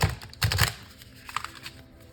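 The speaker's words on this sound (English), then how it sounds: "So I'm just going to shuffle this deck and we will see." A deck of tarot cards being shuffled by hand gives quick bursts of papery riffling and soft clicks, close and fairly quiet, with a pause and lighter flicks after.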